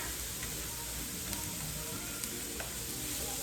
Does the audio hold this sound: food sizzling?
yes